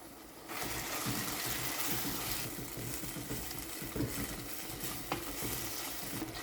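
Tomato masala paste with green chili cooking in a pan for crab curry, a continuous close sizzle with wet stirring scrapes and occasional spoon knocks throughout.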